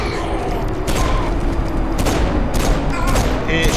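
Rapid bursts of automatic gunfire in Saints Row IV, several sharp volleys spaced across a few seconds over a dense, steady game soundscape, with faint speech underneath.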